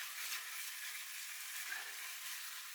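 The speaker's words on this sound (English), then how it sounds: "we want to fry that down until the mixture, which is the shallots and the curry paste, we want that to start giving off a kind of sweet smell" Shallots and curry paste fry in a pan for a curry, giving a soft, steady hiss that stays even throughout, faint and with no voices.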